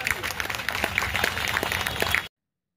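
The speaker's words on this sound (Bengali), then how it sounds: "এর জন্য একটা জোরে করতালি হবে" An audience at a kindergarten and coaching centre annual function in Howrah claps in a brief, moderate burst of scattered applause that ends abruptly.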